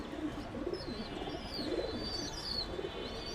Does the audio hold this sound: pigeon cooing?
yes